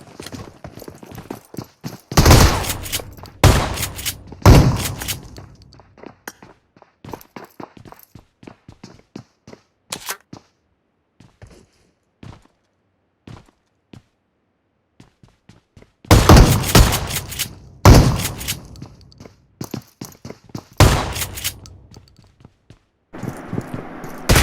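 Shotgun blasts ring out in a video game, two clusters of several loud, sharp shots separated by quieter stretches of faint footsteps and clatter.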